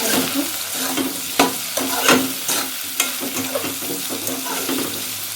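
Chili, turmeric, coriander powder and kitchen king masala sizzle in a pan as a spoon stirs them, giving a steady frying hiss broken by scraping and clinking strokes, close and with no talking.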